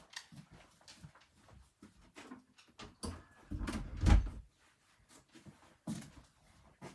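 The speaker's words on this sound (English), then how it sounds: "let me close the door because my dog just came in and opened" A household door is pushed shut with a single dull thud and rattle in a room where a dog has just wandered in, set among scattered soft handling noises.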